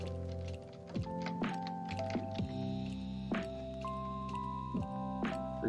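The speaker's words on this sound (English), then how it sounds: "I hope the keyboard noise isn't too loud throughout all this." Computer keyboard keys tap in scattered, irregular clusters, fairly faint beneath a sustained musical tone.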